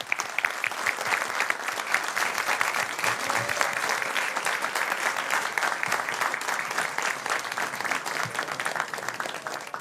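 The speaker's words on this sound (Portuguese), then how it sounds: "Peço uma grande salva de palmas a todos os envolvidos." A large audience at a solemn municipal ceremony marking 30 years claps in a long, loud, sustained ovation with crisp individual claps standing out in the mass.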